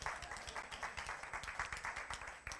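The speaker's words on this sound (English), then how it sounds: "So let's give them a round of applause." A church audience claps in a brief round of applause, a dense patter of many hands at moderate distance, fairly soft overall, with no one speaking over it.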